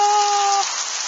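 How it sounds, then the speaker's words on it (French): Heavy thunderstorm rain pouring down in Tour-en-Sologne, France, a dense close hiss of falling water, briefly joined by a steady tonal hum that drops away midway. "Oh la forte pluie."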